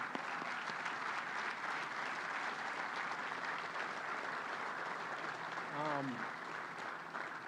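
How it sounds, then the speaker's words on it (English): A crowd at a building topping-off ceremony for the Cleveland Clinic Global Peak Performance Center applauds in a long, steady, dense wash of clapping, with a brief voice rising out of it near the end. "So let's give them a huge round of applause."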